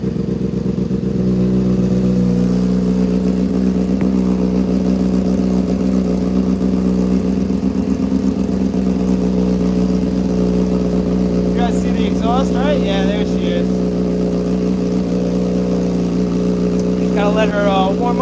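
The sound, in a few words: motorcycle engine warming up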